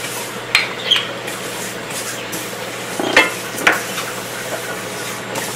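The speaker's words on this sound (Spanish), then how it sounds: "ahorita vamos a tostar las especias así" Spices toasting in a pan for tripe soup: a steady sizzle runs throughout, and sharp scrapes and clinks of a utensil against the pan come several times, close by.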